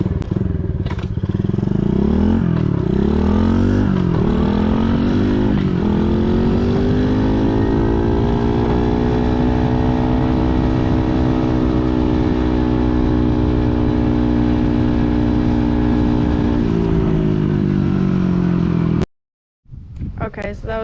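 A Coolster 70cc dirt bike engine runs near full throttle, its loud buzzing note climbing and holding high for a long stretch before it cuts off sharply, then briefly returns.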